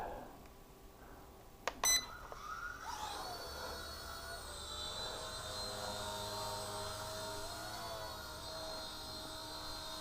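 A couple of electronic beeps, then a small Eachine E129 RC helicopter spins up into a steady high-pitched whine that hovers nearby indoors on low rates, with its pitch shifting slightly.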